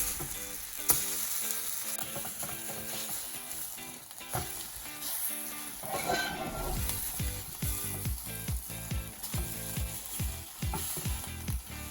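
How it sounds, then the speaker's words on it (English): Steady close sizzling and crackling of salmon burgers frying in a pan, with occasional scraping and stirring sounds. "I'm going to go ahead and flip our burgers. They've been cooking nicely."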